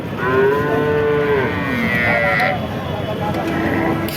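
A Sahiwal dairy cow lows loudly at a busy cattle market, one long drawn-out moo followed by a shorter second call, with market chatter and voices talking underneath.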